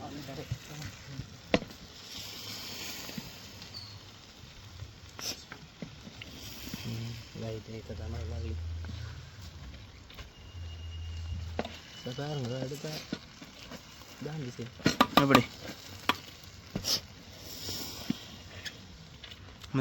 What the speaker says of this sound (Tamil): மோனாஸ் கிளற போகிறான் ம் கிளறும் கிளறும் கிளறும்